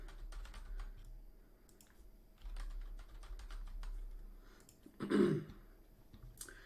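Fingers type on a computer keyboard while an email address and password are entered into a website sign-up form, producing scattered, fairly quiet key clicks in irregular bursts, with a brief cough or throat-clear near the end.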